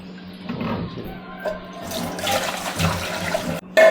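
Beans are washed in water in a home kitchen, with splashing and running water swelling and easing in uneven bursts, loudest toward the end.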